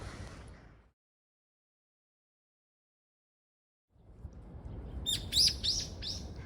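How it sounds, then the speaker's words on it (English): Small bird in a park gives a short series of sharp chirps near the end, over outdoor background noise, after a stretch of silence. "Why are you so angry at me, little bird?"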